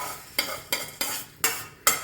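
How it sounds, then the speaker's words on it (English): Toor dal dry-frying in a hot pan, stirred with a utensil in five sharp, evenly spaced scrapes over a soft sizzle. The sound is close and clear, with no voices. "So my tur dal is fried well. I'm going to transfer it into the same plate."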